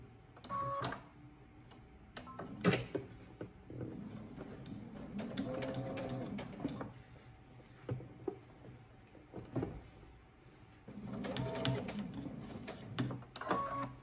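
Short bursts of a sewing machine stitching straps onto a McCall's M7831 dress, broken up by pauses, fabric handling and clicks, all fairly quiet and close.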